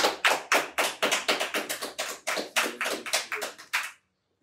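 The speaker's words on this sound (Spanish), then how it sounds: "Un aplauso para él." A single person claps in steady, evenly spaced strikes, about four per second, sharp and close, then stops abruptly with silence after; no talking.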